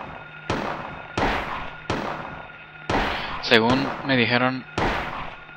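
Gunshots in the video game Silent Hill, a series of sharp, evenly spaced loud blasts about every second, with someone speaking briefly between two of them.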